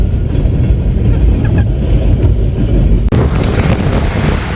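A passing train gives a continuous heavy rumble under gusty wind noise near a Michigan antique festival. Partway through, the sound grows brighter and harsher. No talking.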